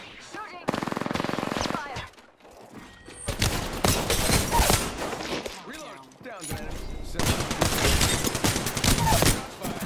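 Automatic weapon fire in the video game Apex Legends rattles out in loud, rapid bursts separated by short pauses, with brief voice sounds mixed in among the shots.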